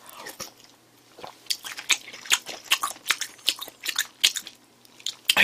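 Close, wet chewing and crunching of grilled pork belly and neck meat wrapped in lettuce, rhythmic bites repeating steadily and growing louder, with no talk.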